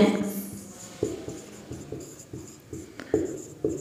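Chalk or marker writing on a classroom board during a physics lesson on light, a series of short scratchy strokes and taps at close range, with soft shuffling and no talk.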